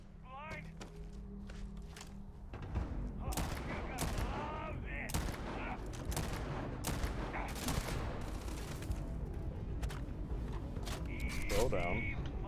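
Explosive-round gunfire rattles in Starfield, with rapid overlapping shots and bursts in dense combat and a player talking over the constant barrage.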